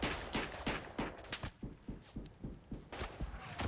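Rapid rifle gunfire in the World War I shooter Verdun, a busy fusillade of sharp cracks from several shooters, some close and some farther off, firing in an uneven rhythm with no talk.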